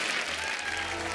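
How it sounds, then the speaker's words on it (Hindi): Studio audience applauding for cricketers Shikhar Dhawan and Prithvi Shaw on a comedy talk show, a dense, steady roar of clapping filling the whole moment without a break. "एक बार शिखर धवन और पृथ्वी शॉ के लिए जोरदार तालियां"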